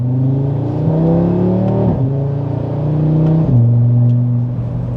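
An Audi RS3 with an upgraded intercooler accelerates hard, its engine note climbing steadily and dropping sharply at two gear shifts, loud and close from inside the car.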